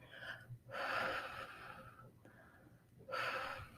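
Slow, deep breaths during a grief meditation: two long, close, breathy inhalations with a gasping edge, separated by a quieter pause, and no speech.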